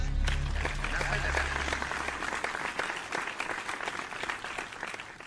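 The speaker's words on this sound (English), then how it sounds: "Everybody get a big, warm round of applause for Mr." Warm round of audience applause welcoming a guest, loud and dense clapping throughout with distinct sharp claps standing out, plus a low hum early on.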